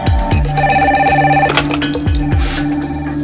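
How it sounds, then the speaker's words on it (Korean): A telephone rings at a broadcaster's office flooded with viewers' calls, bright repeating electronic ring bursts sounding alone and loud, with several rings overlapping across the moment. "방송사로 대체 어떻게 된 일인지 영문을 묻는 시청자들의 전화가 빗발친다."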